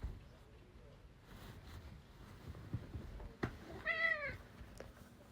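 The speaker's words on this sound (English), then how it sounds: "if you hear meowing in the background, that's my overly loud cat" A loud pet cat gives one short, clear meow in the background of a quiet room, with faint shuffling sounds around it.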